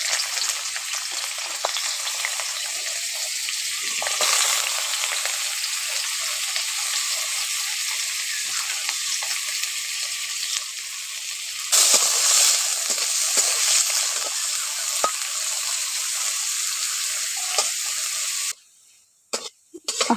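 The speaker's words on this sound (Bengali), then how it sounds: "এখন তেলটা গরম হয়ে গেছে, প্রথমে আমি গাজরগুলো ভেজে নিচ্ছি।" Carrots frying in hot oil for a Bengali vegetable dish with yardlong beans, a steady loud sizzle with crackling bursts that runs nearly the whole time, then drops away abruptly near the end.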